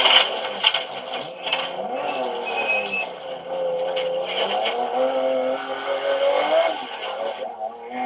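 A race car accelerates hard and slides through a turn beside a lake, its engine droning loud and close with rising and falling pitch as the tail steps out and is caught.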